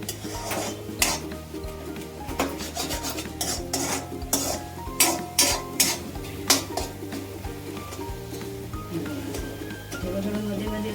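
Roasted eggplant bharta is pressed and stirred in a pan with a metal spoon, giving repeated clinks and scrapes against the pan over a soft sizzle, with a voice talking at times.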